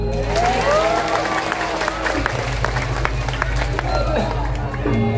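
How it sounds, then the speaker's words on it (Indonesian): Audience clapping and crowd noise at a Balinese drama gong performance by Sari Budaya, loud continuous clapping and hubbub with cheering voices and a steady low hum underneath. "Tepuk tangan lalu."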